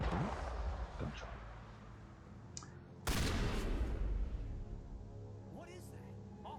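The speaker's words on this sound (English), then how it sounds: "Gunshot." Gunfire in the video game Mass Effect Legendary Edition, with a sharp loud burst about halfway through followed by sustained rumbling, under ongoing game sounds and a talking voice.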